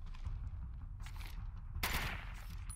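Assault rifle and shotgun fire in the game Deathgarden, heard as dense rapid bursts over a low rumble, with one sharper loud blast about two-thirds of the way through.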